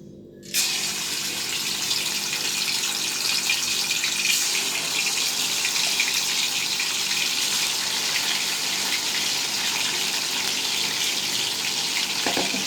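Chicken pieces for chicken 65 dropped into hot oil, breaking into a loud, steady hissing sizzle that starts abruptly and continues evenly, close up with no talk.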